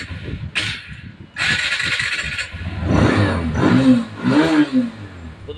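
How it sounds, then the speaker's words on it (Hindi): A TVS Apache 160 RTR BS6 motorcycle, just repaired after a battery fuse short, is cranked and its engine catches, settling into a close idle with a few short revs. "जो बाइक है बाइक भी अब स्टार्ट हो जाएगी"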